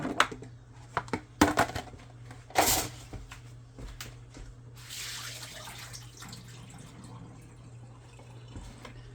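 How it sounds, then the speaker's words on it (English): Tap water runs and splashes in a sink, with a few sharp clatters at the start and a steady stream continuing afterward. "I had to rinse the water out"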